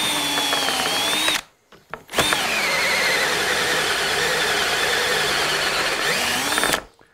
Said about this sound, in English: I just drilled the holes for a door